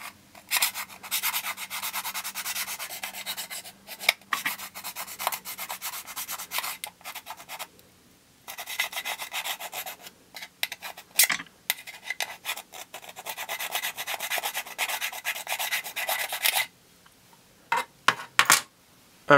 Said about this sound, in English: where we were scraping with the key